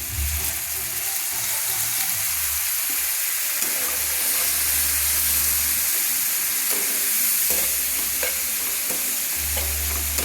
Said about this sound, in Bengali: আমি মশলাগুলো কষিয়ে নিচ্ছি তেলের সঙ্গে